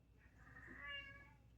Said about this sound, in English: Wow, your cat's so sad right now.